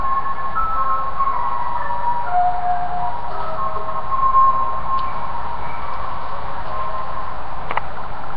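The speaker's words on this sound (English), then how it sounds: "You're going to hear our ice cream man going down the street." An ice cream truck drives down the street playing its tinny jingle melody, steady and moderately loud over a constant background hum for several seconds.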